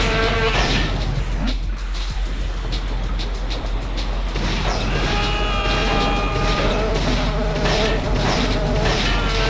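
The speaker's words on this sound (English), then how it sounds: "You like those giant robot mosquitoes because they're everywhere" Giant robot mosquitoes in the video game Daikatana fill the air with a constant loud, harsh insect buzz, layered over dense droning game noise and a low hum that never lets up.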